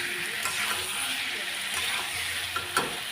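Boiled potatoes sautéed in a hot pan for aloo dum, a steady close sizzle of oil with occasional scraping stirs of a spatula, no voices.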